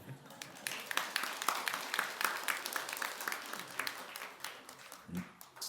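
Faint audience applause at a Buddhist dharma lecture in a temple hall, an irregular patter of distant claps spread across the clip, with a brief low murmur near the end.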